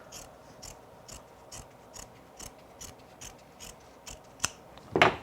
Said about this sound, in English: Now, take and trim that excess off.